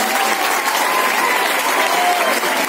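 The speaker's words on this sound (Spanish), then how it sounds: "quiero pedir un aplauso especial para el coordinador de grupo, como es Rigoberto" Loud, dense applause from a large crowd at a school closing ceremony, sustained evenly throughout with a few cheers mixed in.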